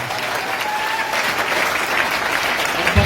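An indoor audience at a company anniversary event breaks into steady, sustained applause, a dense wash of clapping lasting the whole moment.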